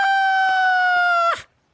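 A single rooster crow rings out loud and close in a Punjabi comedy film, one sustained steady call lasting just over a second before cutting off abruptly into silence.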